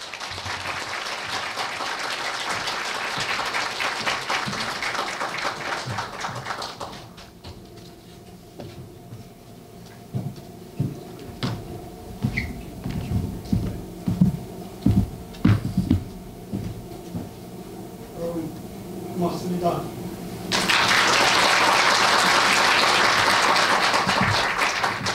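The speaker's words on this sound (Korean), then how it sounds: "여러분, 정낙철 교수님을 박수로 맞이해 주십시오." Sustained applause from an audience at a Korea University professor's retirement ceremony, a dense wash of clapping that fades into scattered sounds and quiet, then swells again strongly near the end.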